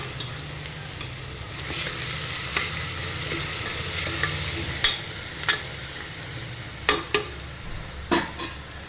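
Goat head meat curry, just dusted with coriander powder, is stirred in a hot pan: steady loud sizzling with repeated spoon clacks against the pan at an uneven rhythm.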